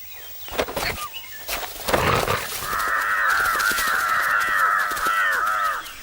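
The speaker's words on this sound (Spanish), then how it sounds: "los siempre atentos cuervos se envalentonan" Wild crows near a jackal den give a chorus of repeated harsh caws, steady and fairly close, after a few rustling thumps at the start.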